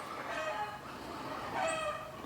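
A Serama chicken gives a few soft, short clucks, close by but quiet, with no talking over them.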